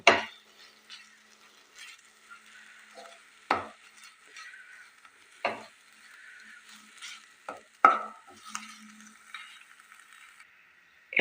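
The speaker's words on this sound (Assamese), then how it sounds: "মই গুড়খিনি নাৰিকলৰ সৈতে দুয়োখিনি ভালদৰে ভাজি ল'লোঁ।" Jaggery and coconut fry together in a pan, heard as scattered stirring scrapes and clinks of a utensil against the pan over a faint sizzle, with sharp bursts every couple of seconds.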